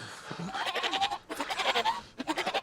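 Newborn two-headed goat bleating in the Paranormal Activity video game, several wavering cries in two bursts, close and fairly loud, no talk.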